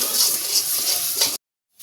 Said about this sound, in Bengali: এটাকে আরও ভালোভাবে ভেজে নিতে হবে